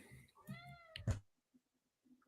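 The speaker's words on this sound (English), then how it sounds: "Shut that cat up." A cat meows once with a rising, drawn-out cry, then a short sharp sound, over faint background voices; quite quiet overall.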